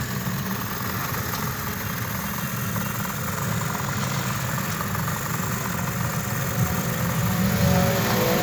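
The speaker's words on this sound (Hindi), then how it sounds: "स्टार्ट करने के बाद इसकी आवाज़ आप खुद साउंड चेक कर सकते हैं।" A 2023 Honda CD 70 motorcycle idling after a loose-tappet repair, with a steady, even engine putter and mechanical vibration close by that swells slightly louder near the end, with no voices.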